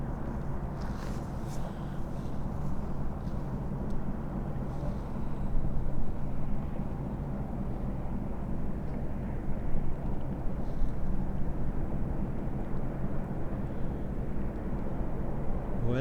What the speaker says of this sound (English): I think the sound we're hearing is just their motors. Engines, sorry.